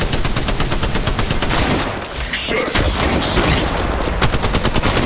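Rapid bursts of automatic gunfire from the mobile battle royale game Apex Legends Mobile, loud and nearly continuous with a brief lull midway, while a player's voice speaks now and then over the shooting.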